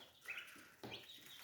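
Domestic home-raised chicks chirp faintly in a few high, quick peeps, heard close but quiet.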